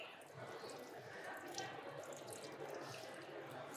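Tap water runs steadily and softly into a sink while salmon is rinsed under it, a continuous faint splashing stream with no one speaking.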